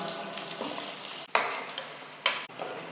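Medium onions cut into large pieces fry in a pan of oil with a steady close sizzle, broken by a few sharp stirring scrapes and clatters of a spoon against the pan.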